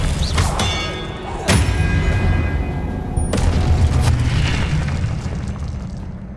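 Spell explosions from Hogwarts Legacy video game combat, a run of booming blasts and sharp pops, loud and close, with the heaviest thuds near the start and midway, over a continuous rumbling game soundscape.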